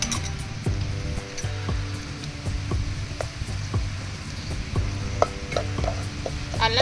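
Ginger garlic paste frying in a pan, giving a steady close sizzle, with repeated metal clinks and scraping strokes of a spoon stirring against the pan, without voices.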